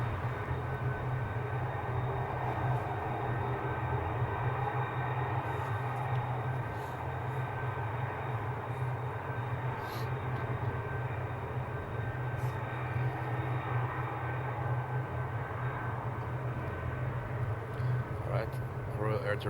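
Royal Jordanian airliner at Amsterdam airport, a steady broad engine roar with a low drone running throughout, moderately distant and continuous, with faint talk in the background.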